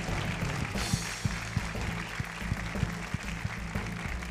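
A pageant gala audience claps in a lively, steady burst, with sharp individual hand claps standing out over a broad crowd wash and a faint background hum.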